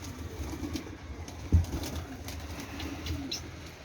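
Caged pigeons at a rooftop flying-pigeon loft coo softly and repeatedly at close range, with one sharp flap or knock partway through.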